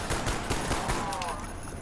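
Rapid gunfire from a weapon in Black Ops 1 Zombies, a dense stream of repeated shots running through the whole short stretch at steady loudness, with faint talk mixed underneath.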